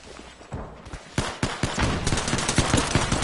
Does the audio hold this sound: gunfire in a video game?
yes